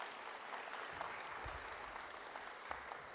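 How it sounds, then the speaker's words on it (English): Faint, distant applause fills a university graduation ceremony hall for the Faculty of Health, a soft, continuous crowd clapping with a few low bumps and thuds underneath. "that deserves a round of applause"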